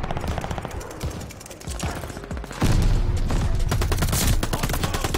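Rapid gunfire in Call of Duty: Vanguard, with MP40 and assault rifle fire rattling in dense bursts that grow louder and more continuous midway, mixed with mechanical clatter and no talking.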